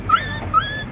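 A dog that got pinned or run over whimpers twice, two short, high, plaintive cries heard up close.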